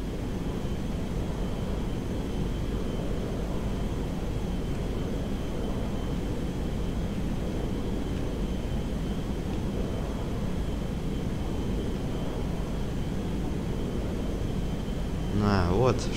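A steady propeller-plane engine in Grand Theft Auto V drones throughout, a broad continuous roar with a faint high whine, and a brief burst of noise near the end.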